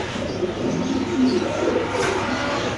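A black Dragon pigeon coos in soft, low, repeated murmurs close by, with no voices over it.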